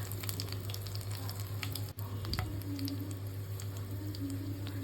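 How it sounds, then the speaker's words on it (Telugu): Dried red chillies broken into pieces sizzle in two spoons of hot oil, a soft, continuous frying hiss with faint pops and a steady low hum underneath. "దాంట్లో 2 స్పూన్ల ఆయిల్ని వేసి అది కొంచెం హీట్ అయిన తర్వాత 2 ముక్కలుగా చేసిన ఎండుమిరపకాయల్ని వేసి ఫ్రై చేయాలి"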